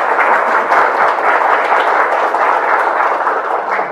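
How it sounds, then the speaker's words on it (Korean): An audience at a youth startup talk concert in Incheon applauds the speaker, dense, loud clapping that stays steady throughout with no voices on top. "좋은 말씀 해주신 대표님께 다시 한번 큰 박수 부탁드리겠습니다"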